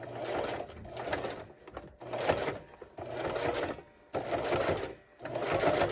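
A sewing machine stitches a jelly roll rag rug, running in bursts of rapid, close mechanical whirring with short pauses between runs. A reverse stitch is used at the start, and no one speaks.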